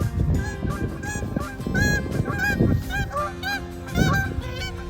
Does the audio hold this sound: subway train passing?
no